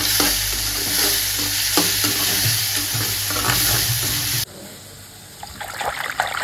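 Onions and tomatoes sauté in a hot pan for vatha kuzhambu, a loud steady sizzle with regular stirring scrapes, close up. The frying drops off abruptly partway through and quieter kitchen sounds follow.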